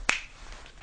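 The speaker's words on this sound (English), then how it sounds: "When I count from 5 to 1 and snap my fingers, you will feel alert" A single sharp finger snap, close and crisp, rings out once at the end of a 5-to-1 countdown in a hypnosis-style auditing session, followed by a quiet room.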